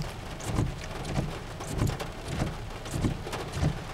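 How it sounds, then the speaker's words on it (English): Steady rain patters outside a laundromat on a Sunday afternoon, a dense continuous hiss of drops with soft rhythmic thuds under it, alone and without voices. "A laundromat on a rainy Sunday afternoon"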